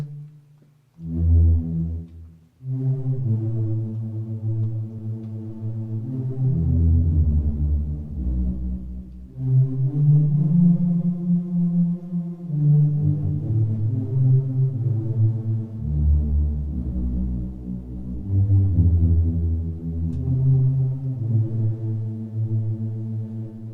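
Slow, sustained tones from the Vital synthesizer with a long reverb tail, chords swelling and fading one into another, alone without any voices.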